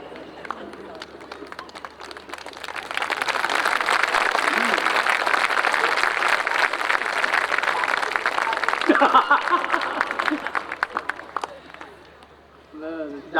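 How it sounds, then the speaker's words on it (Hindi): Sustained audience applause at a Hindi kavi sammelan poetry gathering in Seawoods, a dense wash of many hands clapping that holds steady for most of the clip, fades near the end, and gives way to a voice speaking. "मैं जानता हूं आप सब तालियां बजा बजा के बहुत थक गए"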